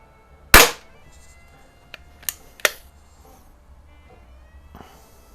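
A Webley Nemesis .177 single-stroke pneumatic target pistol fires a pellet with one loud, sharp crack up close, followed by a few fainter mechanical clicks and taps.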